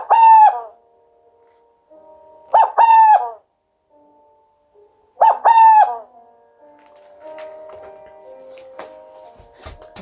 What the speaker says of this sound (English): this song is the male burrowing owl's song.